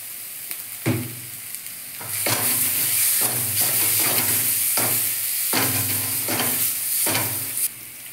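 Soya cutlet mixture frying in a pan with salt and turmeric added, loud close sizzling that surges repeatedly as the mixture is stirred, with rhythmic scraping strokes every second or so.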